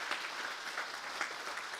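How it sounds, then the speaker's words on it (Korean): A congregation applauds at a church retirement thanksgiving service, a steady, even wash of many hands clapping, soft and somewhat distant throughout. "우리 박수로 격려해 주시면 좋겠습니다"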